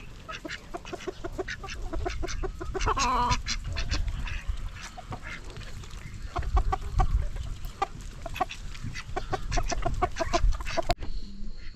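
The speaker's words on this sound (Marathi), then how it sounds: "ती छोटी बदक आणि कोंबड्या खातात बघा" Ducks quack and chickens cluck in a busy farmyard chorus, repeated calls overlapping over a low background rumble.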